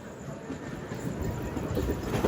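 A MEMU express train rolls toward Vijayawada station, a steady low rumble with rhythmic wheel clatter heard from inside the carriage, growing slightly louder toward the end.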